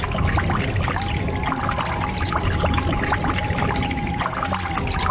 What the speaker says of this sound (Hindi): अरे क्या तुम्हारे नीचे से पानी कहाँ से आ रहा है?